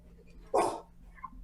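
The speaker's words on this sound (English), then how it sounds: "Is that your dog? That sounds like a really big Is dog." A big dog inside a house gives one loud, deep bark that cuts through quiet room tone, followed by a faint softer sound.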